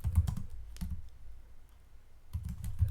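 Quick bursts of clicky typing on a computer keyboard, close and fairly quiet, with short pauses between flurries and a brief gap in the middle.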